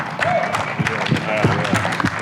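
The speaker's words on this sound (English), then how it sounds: "Round of applause for that." Audience applause at a landscape contractors' summit Q&A, a steady, moderately loud patter of many hands with voices talking over it.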